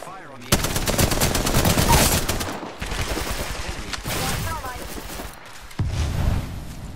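Automatic weapon fire in the video game Apex Legends, long loud bursts of rapid shots with short gaps between them, mixed with game effects and voice callouts.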